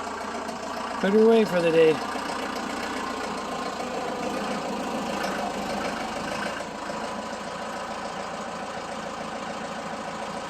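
A 2007 Kubota M105S tractor idles while parked in a barn, giving a steady low-to-mid engine drone close by. Someone speaks briefly over it near the start.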